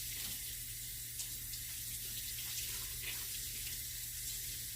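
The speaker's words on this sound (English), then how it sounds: "And this I will wipe off, rinse off with cold water." Cold water runs steadily from a kitchen tap while something is rinsed off, a constant close splashing hiss.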